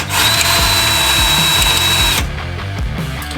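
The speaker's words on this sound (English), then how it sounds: "Alright, we got our first hole drilled." Power drill boring a hole with a 9/16 bit during a bump stop install on a 2016 Tacoma, a loud steady high whine that stops sharply partway through, followed by lower mechanical rumble.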